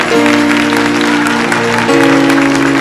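Thick, continuous clapping from a church congregation, close and loud, carried over a sustained keyboard chord that changes near the end.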